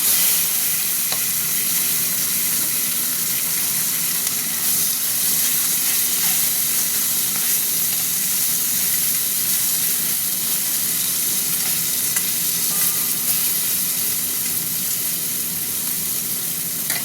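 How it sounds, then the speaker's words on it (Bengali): Amudi fish frying in hot oil, a dense continuous sizzle with occasional stirring scrapes, steady and close throughout. "ভাজা হতে থাক।"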